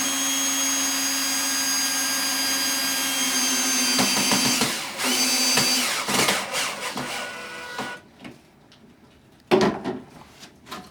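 A power drill drives screws into a vinyl window mull joining two windows, its motor whining steadily up close, then stopping and starting in short bursts with clicks and handling noises.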